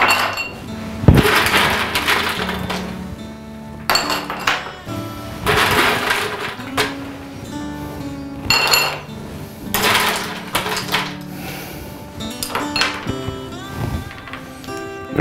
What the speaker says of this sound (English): what we do here is that we pack the glass with ice